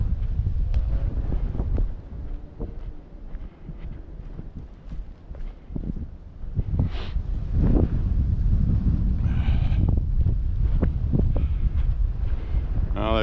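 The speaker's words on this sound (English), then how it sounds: "that wind is nasty" Strong gusts buffet the microphone on an outdoor walk, giving a rumbling, uneven roar that swells and eases, with footsteps and scuffs scattered underneath.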